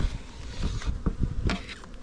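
Honey bees buzz around an open beehive while frames are inspected, a steady mid-loud insect drone with scattered brief creaks and knocks from handling throughout.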